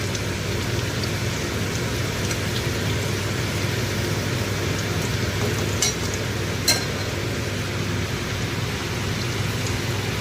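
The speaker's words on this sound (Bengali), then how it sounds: "জিরা ফোড়ন দিয়েছি, জিরা।" Cumin seeds tempering in hot oil, giving a dense, loud, even crackling hiss like rain that holds steady throughout, with a couple of brief sharper pops near the end.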